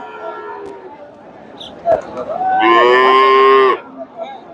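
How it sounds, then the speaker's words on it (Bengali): A native cow moos loudly and close at a muddy cattle market, one long harmonic call lasting about a second, with a calf nearby and faint crowd murmur underneath. "এখানে একটা দেশি গাভী দেখতেছি, সাথে ষাঁড় বাচ্চা"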